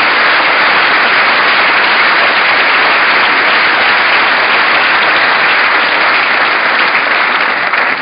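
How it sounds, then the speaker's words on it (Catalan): Loud, sustained audience applause at a Catalan political assembly event in Tarragona, a dense, even wash of many hands clapping that continues steadily throughout without pause. "demanaria doncs, un aplaudiment i agraïment a tots els companys de l'Assemblea"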